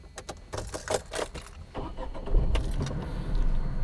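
A Tata Tigor petrol or diesel car is started with a key: a few clicks and jangles, then the engine cranks and catches into a steady, fairly loud low idle, close by with no talking.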